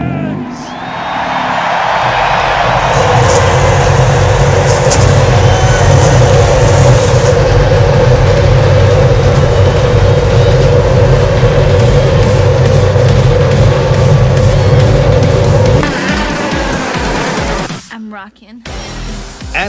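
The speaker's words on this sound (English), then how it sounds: "Drivers, start your engines!" IndyCar engines fire up together in a racing video game before a championship event at Auto Club Speedway, holding a loud, steady, low droning roar with a crowd murmur before cutting off near the end.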